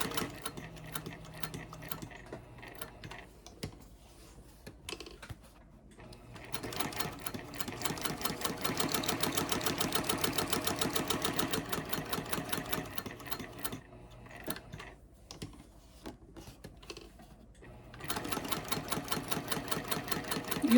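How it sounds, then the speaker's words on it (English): A quilting sewing machine that stitches only straight, forward and back, runs in steady rapid bursts of needle clatter with short pauses between runs, close and fairly loud, with no talking. "This is a quilting machine, and it only has straight, it only goes forward and back."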